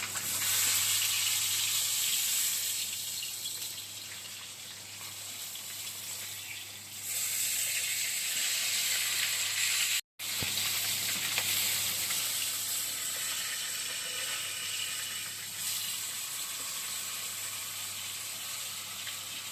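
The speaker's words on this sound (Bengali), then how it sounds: "এবার মাছটা উল্টে দিচ্ছি।" A fish, the Bangladeshi bata, fries in hot oil in a home kitchen with a steady broad sizzle that runs on without a break. It cuts out for a moment midway as the fish is turned, then resumes just as strong.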